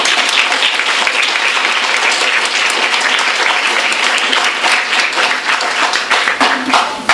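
Sustained applause from an indoor audience welcoming an author to a bookstore reading, dense and steady clapping filling the room at close range for several seconds, with a few voices faintly mixed in.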